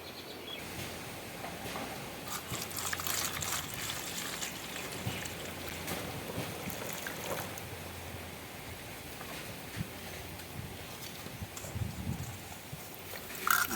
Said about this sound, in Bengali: আমগুলো এবার আমি কাটার আগে ভালো করে ধুয়ে নেবো